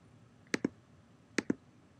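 Mouse clicks in Logger Pro software come as two quick double clicks about a second apart, close and crisp in an otherwise quiet room.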